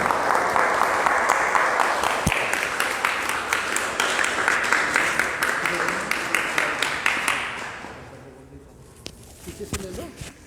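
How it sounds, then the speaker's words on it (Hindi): Applause from a devotional gathering in Delhi after chanting, a steady crowd of clapping that swells and then dies away, leaving scattered sounds and a brief voice near the end. "तालियां बजाओ।"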